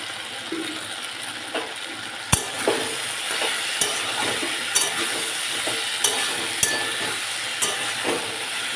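Mixed vegetable curry sizzling in a pan while a spoon stirs it, a steady frying hiss broken by sharp, evenly spaced scrapes and clacks, close and without talk.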